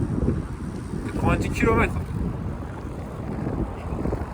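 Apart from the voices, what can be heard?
strong wind blowing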